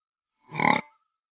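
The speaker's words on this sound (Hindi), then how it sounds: "सुअर" A pig lets out one short, close grunt lasting a fraction of a second, with silence before and after.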